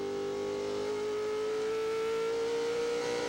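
A NASCAR Craftsman Truck Series race truck engine at New Hampshire holds a steady high-revving whine, loud and continuous, with a sustained tone that climbs slowly across the few seconds and no voices over it.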